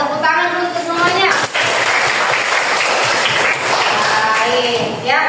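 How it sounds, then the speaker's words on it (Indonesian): A classroom of students applauding together, a dense burst of clapping lasting several seconds, with a teacher's voice before and after it. "tepuk tangan dulu untuk semuanya."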